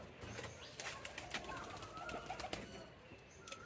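Pigeons at a home loft make soft cooing and brief wing flutters, faint and somewhat distant, in a quiet setting with no talking.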